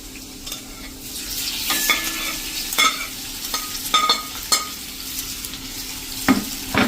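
Sesame seeds and pieces of steamed dudhi-besan muthiya are stirred in a hot pan, with irregular scraping strokes and sharp clacks of the spoon over a soft, steady sizzle, close and without talk.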